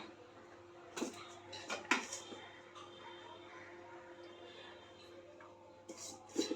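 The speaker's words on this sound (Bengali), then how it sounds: "এই দেখো ভাত নিয়ে নিচ্ছি থালায়" Rice being served onto a plate in a home kitchen, with a few sharp clinks of a serving spoon against the plate and soft scraping in between, fairly quiet and close.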